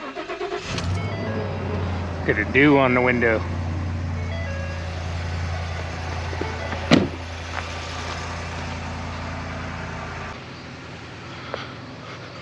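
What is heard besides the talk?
truck engine starting and warming up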